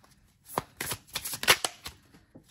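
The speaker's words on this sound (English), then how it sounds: "These cards are flying all over the place." Playing cards slipping and scattering during a tarot-style card shuffle, a short burst of close riffling and flapping papery clatter that rises then trails off, with no talking.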